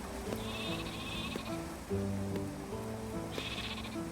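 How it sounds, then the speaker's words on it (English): Baby sheep bleating in the farming game Clanfolk, a few short high cries scattered over a steady bed of game music and ambient patter, fairly faint. "Baby sheep."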